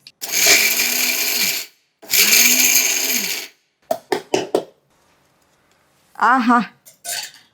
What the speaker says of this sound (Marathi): झाकण लावायचं आणि हे देखील पुन्हा एकत्र आता ग्राइंड करूयात.